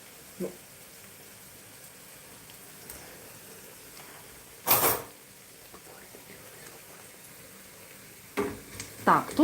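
Onion frying in a pan gives a faint, steady sizzle in a quiet home kitchen, broken by a few short clatters and a louder burst of utensil noise near the end.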